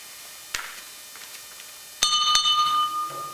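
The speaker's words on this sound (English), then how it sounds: "Ring the bell." After a soft knock, a small bell is struck twice in quick succession at a Four Chaplains memorial ceremony, its bright metallic tone ringing on briefly before fading.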